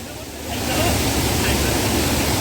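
River water rushes in a steady, broad hiss close by, swelling in after a quieter half second and holding constant to the end.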